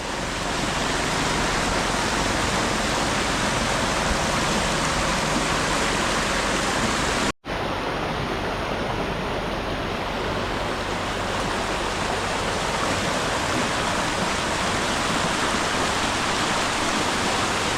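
Heavy rain pours down in Kuttanad, Alappuzha, a dense, steady roar of falling water that fills the whole stretch, close and loud, with only a brief cut partway through and no voices.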